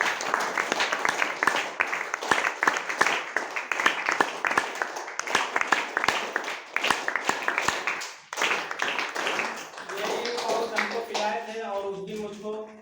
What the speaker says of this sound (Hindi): मैं जोरदार जबरदस्त ताली चाहता हूँ